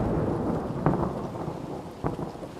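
Thunder cracks twice during a storm in the video game Wayward Strand, each clap short and loud over a steady wash of rain.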